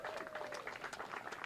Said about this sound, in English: If you give Mike Rush, Senator Mike Rush, a round of applause